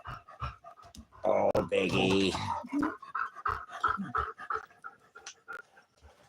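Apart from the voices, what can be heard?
dog panting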